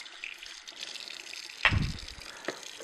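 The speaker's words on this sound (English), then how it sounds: "You're just going to rinse it off." Juicer parts, including the pulp regulator, rinsed under a running tap: a steady low hiss of flowing water with a sudden splash and clatter midway as the piece meets the stream.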